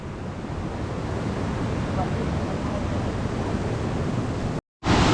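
A continuous rushing wash of rainwater, steady and fairly loud, streaming down a slope in Mawsynram village, Meghalaya, with wind buffeting the microphone.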